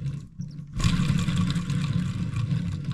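A VW T5 2.5 TDI five-cylinder van engine with a faulty alternator runs with a rough, noisy clatter, starting quieter and then rising to a steady loud rattle and hum close by.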